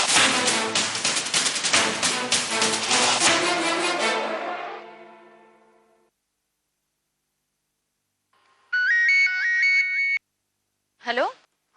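Mobile phone ringtone for an incoming call plays as a loud repeating electronic melody, fades out, then sounds again twice in short bursts after a pause.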